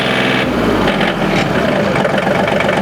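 A compact tractor engine idling in a steady, loud, fairly piercing drone that holds constant throughout, close by with no talking.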